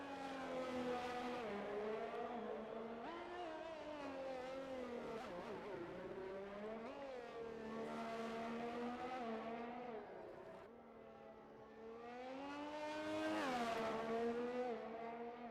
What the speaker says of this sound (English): Next car coming around